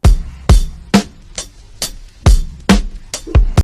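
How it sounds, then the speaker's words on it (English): A drum break time-stretched down to 68 BPM thumps along in a slower kick and snare pattern, hits loud and close with a slightly smeared tail, no talking. "I stretched the drum break down to 68 BPM"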